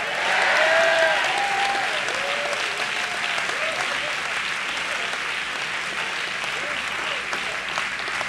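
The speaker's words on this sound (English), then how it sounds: "Clap your hands and shout yes." A congregation at a church family camp service claps and shouts together in a dense, sustained burst of applause with voices mixed in, staying loud and steady for about eight seconds.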